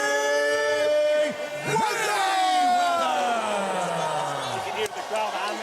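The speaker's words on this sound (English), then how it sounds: "Oh, the crowd's going crazy" Arena crowd at Abu Dhabi's Etihad Arena roars and whoops for Floyd Mayweather's boxing entrance, a loud sustained cheer with shouting voices and a tonal horn-like swell running throughout.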